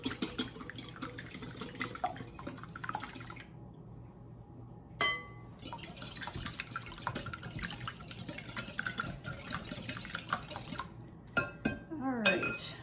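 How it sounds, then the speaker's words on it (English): Two eggs are whisked briefly in a bowl for zucchini bread, a quick run of light, rhythmic clinks and taps against the bowl, with a short pause partway through. "2 eggs for each of them. And I'm going to whisk those just a little."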